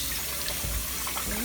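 Tap water runs into a sink as chicken liver and gizzards are washed, a steady close wash of flowing water with brief splashy surges, no talk over it.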